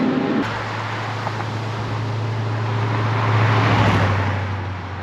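An LS1-powered 1932 Ford Hi-Boy roadster street rod on the move, its V8 a steady loud low drone with wind rush that swells slightly toward the end.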